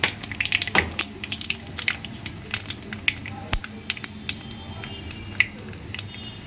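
Nigella seeds and dried red chili crackle in hot oil as they are tempered, giving a dense scatter of sharp pops and spits, busier at first and then thinning out, close and with no talking.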